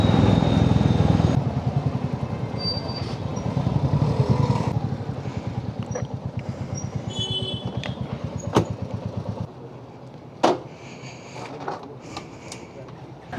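A motorcycle engine runs close by, throbbing and rumbling as the bike rolls up near a Hyderabad temple, then drops to a quieter idle and shuts off, with clatter and voices around it.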